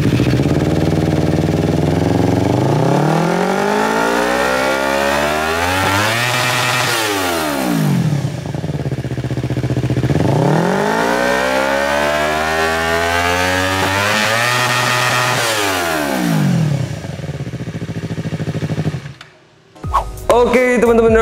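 A Yamaha MT-25 motorcycle with an aftermarket Italian Performance exhaust revs hard twice with a raspy, aggressive note, rising and falling in long sweeps, then idles and cuts off near the end.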